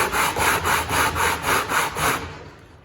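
Rhythmic back-and-forth sanding of an acoustic guitar's wooden top on a radius dish, about eight even rasping strokes, close and loud, then fading to quiet.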